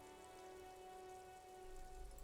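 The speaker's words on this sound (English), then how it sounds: "All around you, rain falls on the great city of Revachol." Rain falls in the video game Disco Elysium as a quiet, continuous patter on surfaces over a faint sustained tone, with no talking.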